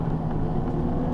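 A small Q3 vehicle runs at its 12 mph top speed with a steady, even motor drone and road noise, continuous and close with no talking.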